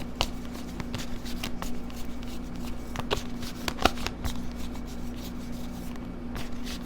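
Tarot cards being shuffled by hand, a continuous soft riffling and scraping with sharper snaps now and then, close and fairly quiet over a low steady hum, with no talking.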